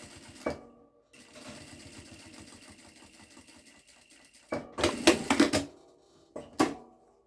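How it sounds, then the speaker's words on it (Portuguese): A sewing machine runs close by in a steady whirring, rapid stitching burst, then stops and gives a few short, louder clattering runs as fabric for a small zipped pouch is sewn, with no talk. "Pode fazer um pé de máquina aqui, com a distância."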